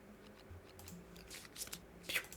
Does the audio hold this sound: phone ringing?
no